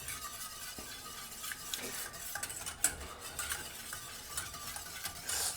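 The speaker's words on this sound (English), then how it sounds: "Stir this really well." A utensil stirs melted unsalted butter into milk in a bowl, with soft scraping and light clinks against the side, close and quiet.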